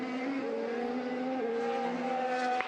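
A Formula 1 car's engine note runs loud and steady throughout, with sustained harmonic whine and a slight pitch dip midway, close and continuous without talk.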